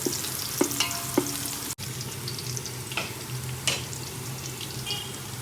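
Sliced onions fry in hot oil for mutton biryani, a steady close sizzle with a few stirring scrapes and clinks from the spoon, and no talking.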